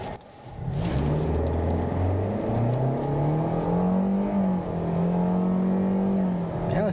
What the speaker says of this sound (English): we're gonna see the off-the-line acceleration right here.